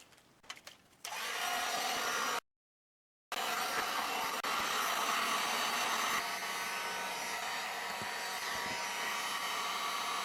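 A heat gun blows a loud, steady whooshing roar as it shrinks plastic wrap around a piece of artwork, cutting out briefly and then starting up again, after a few soft handling clicks at the start.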